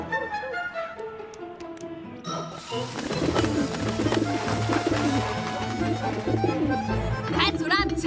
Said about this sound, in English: First, we need to get rid of these pigeons.